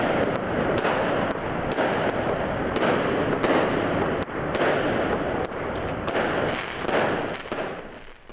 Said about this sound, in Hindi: आतिशबाजी से आसमान जगमगा उठा।